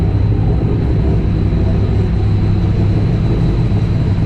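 A turbocharged Ecojet V6 engine idling just after a cold start, a steady, loud low rumble with a faint high whine, continuous and unchanging with no talk.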